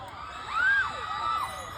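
A crowd at a live comedy show screams and shrieks, with shrill rising and falling cries that peak loudly near the middle and return briefly over a noisy background.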